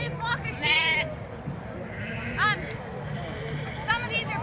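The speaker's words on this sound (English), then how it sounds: "So I gave her a new flock of sheep." A flock of sheep bleats in several repeated calls, some near and loud, others farther off, over steady outdoor background noise, with people talking throughout.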